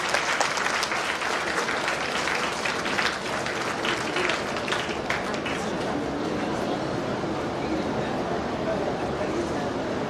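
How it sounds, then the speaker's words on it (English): Audience at a book launch in Bengaluru applauds the author of Guardian of Hearts, a steady round of clapping from a sizable crowd that holds strong for several seconds before thinning slightly toward the end. "A round of applause for the author also."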